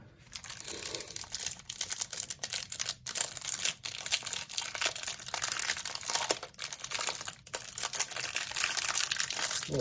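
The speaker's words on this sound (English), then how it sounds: "Got the loud wrapper there." Foil wrapper of a Prestige trading card hanger pack crinkling loudly and steadily as it is torn open, close up, with continuous crackling and brief pauses.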